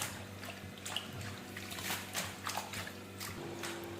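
Spinach leaves are washed by hand in plenty of water, making soft swishing and sloshing sounds with small splashes, quiet and close, with no talk.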